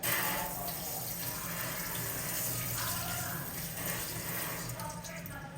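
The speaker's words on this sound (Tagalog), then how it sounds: "So, ito yung egg. Hugasan ko lang." Tap water running steadily into a kitchen sink while an egg is washed for homemade chicken à la king, a loud, close, continuous gush that hardly changes.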